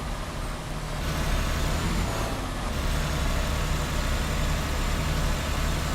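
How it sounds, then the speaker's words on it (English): Heavy truck engine labouring up a hill in American Truck Simulator, a steady loud drone with a low rumble held throughout, without pause and with no voices. "Can hear that engine going in."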